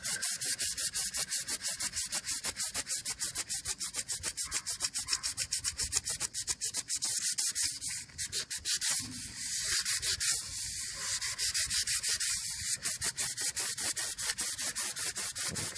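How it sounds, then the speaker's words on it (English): Steady, continuous rubbing of sandpaper on chrome metal to give it a brushed finish, a close, even scratching rhythm that carries on alone with a brief dip partway through. "remember, you do not want to sand hard"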